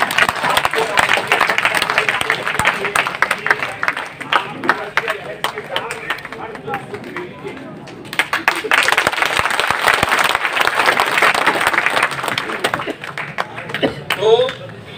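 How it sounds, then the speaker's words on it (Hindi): Loud applause and clapping from an audience at a Hindi-language political gathering of a Paan Mahasangh, where a national president is announced, swelling through most of the stretch with a brief dip midway and voices mixed in. "जोरदार तालियां बजाइए हीरामणि जी।"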